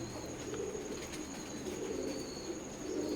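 Teddy pigeons, breeder birds from an imported bloodline, coo softly and repeatedly in a loft, a low rolling call recurring close by over a steady background hum.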